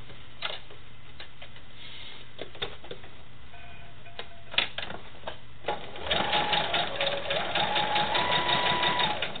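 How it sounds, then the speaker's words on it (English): A sewing machine stitches sashing onto a quilt, with scattered ticks and clicks at first and then a steady, close mechanical whir of stitching in the second half, with no speech. "And we're going to sew that on."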